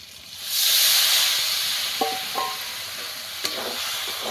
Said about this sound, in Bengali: ও সব কিছু মশলা একসঙ্গে কষিয়ে নেব